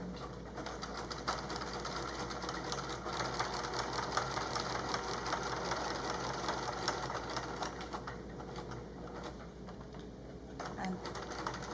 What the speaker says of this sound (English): I'm going to start with a back stitch because at this point it's really important for it not to come loose.